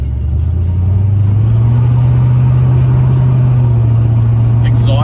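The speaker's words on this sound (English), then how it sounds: "Exhaust sounds really good on the car." A 1970 Ford Mustang with a 302 V8 runs steadily, its exhaust a loud, deep, close rumble that rises slightly in pitch partway through and then holds.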